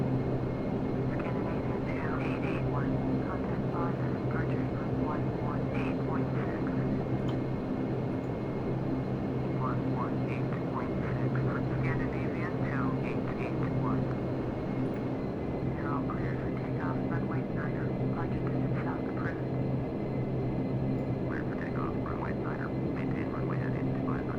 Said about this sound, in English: see that the props are coming up to speed